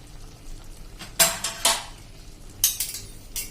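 Moong dhokla served from a pan onto a plate: a few sharp metal clinks and scrapes of a utensil against cookware, spaced out over quiet background.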